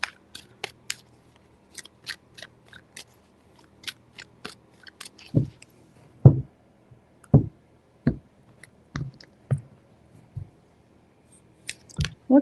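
Crisp clicks and soft papery slaps of tarot cards being shuffled, in scattered bursts followed by a run of heavier, evenly spaced thumps, close by.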